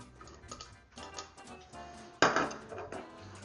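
Shredded low-moisture mozzarella, two-thirds of a cup, dropped into a mixing bowl, heard as soft close clinks and rustles followed by a sharper bowl knock, with no talking.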